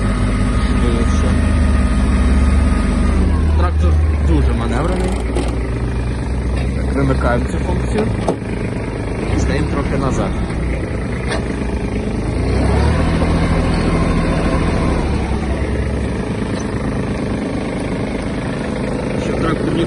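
Kubota GB-18 Japanese mini tractor with its diesel engine running steadily as it drives, the front wheels engaged in low range third gear; a continuous, loud engine drone fills the whole stretch with someone talking over it.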